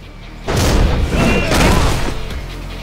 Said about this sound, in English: Sango's the guy who brings the rocket launcher.